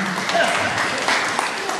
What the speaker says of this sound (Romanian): Aplauze încă o dată, extraordinar!